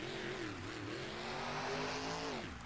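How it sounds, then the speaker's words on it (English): A monster truck engine revs hard as the truck spins around during a freestyle run at a Las Vegas event, a loud sustained roar with wavering pitch that drops away near the end. "Spinning that truck around."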